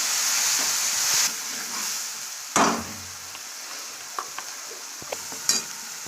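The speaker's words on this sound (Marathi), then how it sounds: "आता आपलं हे मिश्रण बारीक केलेलं आपल्याला हे तेलामध्ये घालायचं भाजण्यासाठी" Ground spice mixture frying in hot oil with curry leaves and cumin for a village-style okra amti, a steady broad sizzle with stirring scrapes and a few sharp clinks of a utensil against the pan.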